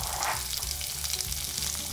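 Chopped onion and green chillies frying in a pan for a dry fish curry, a steady dense sizzle throughout with faint stirring and no voices.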